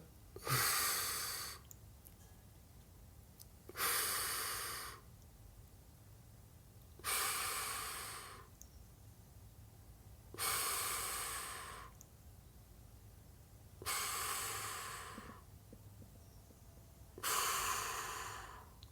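Six slow, soft breaths come and go at an even pace during a calm concentration breathing exercise, each a long airy exhale heard close and alone in a quiet room.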